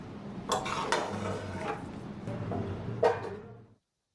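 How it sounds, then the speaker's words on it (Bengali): Chicken in a pot being stirred with a few metal scrapes and clinks, then a lid knocked back into place, close and moderately loud before falling silent. "একটু ঢাকা খুলে একটু নাড়াচাড়া করে দিলাম। তারপরে আবার ঢাকা দিয়ে দিচ্ছি"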